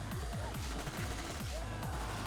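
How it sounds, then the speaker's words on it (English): Rapid bursts of automatic gunfire from a Shadowrun tabletop game rattle on in a steady, repeating rhythm beneath a dense, noisy background. "In the distance, you can hear some automatic gunfire going off."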